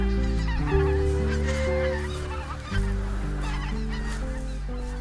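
A flock of greater white-fronted geese at Togyo Reservoir in Cheorwon honks in overlapping, layered calls, dense and continuous, close and fairly loud with no voices.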